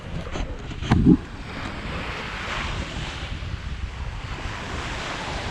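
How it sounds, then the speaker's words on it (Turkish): Surf rolls steadily onto a windy Çanakkale beach, with a continuous wash of waves and wind noise buffeting the microphone, plus one brief louder gust or thump early on. "rüzgar alan bir bölge ve su sürekli dalgalı"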